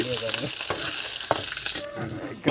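Sliced onions fry in a pan on a camping van stove, with a steady close crackling sizzle, intermittent spatter pops and stirring scrapes over nearly three seconds.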